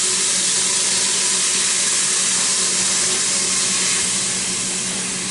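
Vegetables sear in a Quick Cooker on its sear setting, giving off a loud, continuous sizzling hiss that holds steady and close with no talking.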